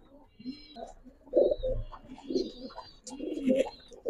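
Pigeons coo softly in repeated low throaty phrases at a pigeon farm, with faint chirps and other bird calls mixed in nearby.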